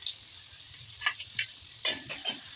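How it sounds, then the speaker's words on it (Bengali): Chopped onion goes into hot white oil in a wok and starts frying, giving a soft steady sizzle with a few sharper crackles and spatters. No one speaks. "সাদা তেলটা গরম হয়ে গেলে তেলের মধ্যে আমি দিচ্ছি পেঁয়াজের কুচি"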